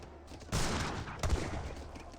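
Gatling guns fire in a real-time strategy battle in Age of Empires 3, a sudden rattling burst followed by a sharper second volley, fairly faint in the mix.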